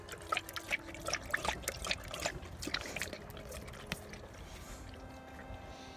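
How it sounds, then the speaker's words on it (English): Water running from an outdoor faucet into a large dog's drinking bucket, a soft, close trickle and splash with irregular gurgling bursts that tapers off near the end, fairly faint and without talk. "I keep this bucket right here up under the faucet. If I can cut it on"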